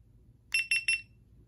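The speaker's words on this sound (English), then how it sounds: "The traditional beeping." Three short, bright electronic beeps in quick even succession from a GoPro Hero 9 Black camera powering on, clear against a quiet low hum.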